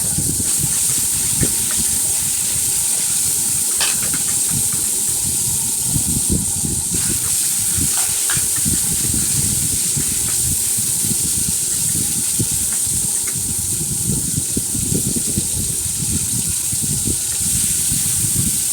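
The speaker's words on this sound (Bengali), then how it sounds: "এখন আমি কাঁকড়াটাকে ভেজে নিব আগে, লবণ মরিচ দিয়ে হলুদ দিয়ে ভেজে নিব।" Crab fries in hot oil with salt, chilli and turmeric, a dense steady sizzle and hiss held close and loud throughout, with scattered crackles and faint clinks and no talking.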